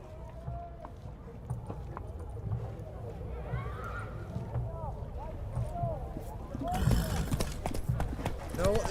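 Roach, a horse in the Witcher 3 game, trotting with quick rhythmic hoof clip-clops under a low ambient bed, while a voice speaks over it and the scene grows louder near the end.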